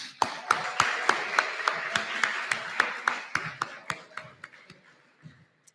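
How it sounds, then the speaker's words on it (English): Sharp, spaced claps from a conference audience, close and distinct at first, then thinning and fading to a few last scattered claps, with a faint voice underneath. "give yourselves a round of applause because you were a great audience"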